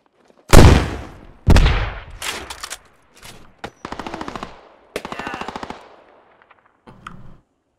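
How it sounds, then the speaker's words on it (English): Machine gun fire in the video game Squad rattles in several sharp bursts, from loud close volleys to shorter, quieter strings of rapid shots with pauses between them. "Look at this field of fire from this MG."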